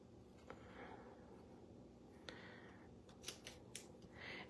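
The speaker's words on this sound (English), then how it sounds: "So I am gonna go ahead and cut these hearts out." Scissors cutting paper hearts for a handmade Easter truck card, several faint, separate snips and rustles close by against a quiet background, with no talking.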